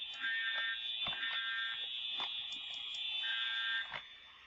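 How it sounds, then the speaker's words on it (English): Middle school fire alarm sounding a continuous shrill electronic tone indoors, steady and fairly loud, with faint knocks and footsteps beneath it before it cuts off near the end. "I pulled the fire alarm and the fire alarms are going off"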